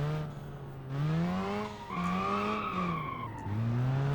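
Rotary engine swapped into a 200BX car in the BeamNG driving game, revving loud and close in repeated rising sweeps as it climbs through gears, with a smooth buzzing whine.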